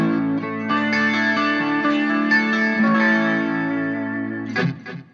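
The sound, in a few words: guitar modelling amp with chorus and delay effects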